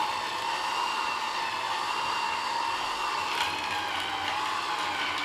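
An electric juicer runs at a steady, loud whine while produce is fed into its chute, a continuous broadband motor drone with faint grinding fluctuations and no talk.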